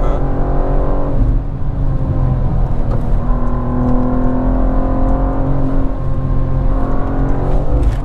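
A 2023 BMW M2 G87 engine revs hard and climbs toward its redline, a loud, close, continuous rising roar with layered harmonic tones lasting several seconds and no talk over it.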